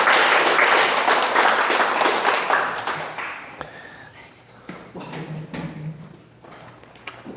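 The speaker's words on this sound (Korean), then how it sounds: "자, 박수 한번 치고 지나가." A seated audience at a Buddhist Q&A talk claps in a loud burst of applause that fades over a few seconds into scattered taps, shuffling and faint murmuring.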